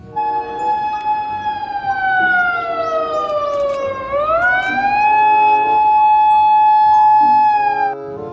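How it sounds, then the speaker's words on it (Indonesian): A toy police car siren wails loud and near, its tone sliding steadily down and then sweeping back up before holding a steady pitch. "Mobil polisi."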